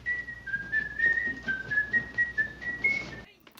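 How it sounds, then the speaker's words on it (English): A person whistles a bright, cheerful tune in a continuous wavering melody, moderately close and alone over faint background noise, ending abruptly. "You know you're happy when you're whistling."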